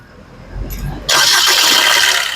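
A 2017 Maruti Suzuki Ciaz ZDI Plus diesel engine cranks briefly and catches on the first try, then settles into a loud, steady close-up idle.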